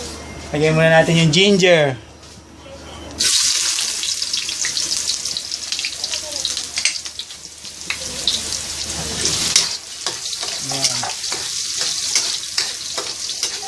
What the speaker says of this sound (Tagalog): Ginger po ito, niluluto, kailangan maging mabango siya.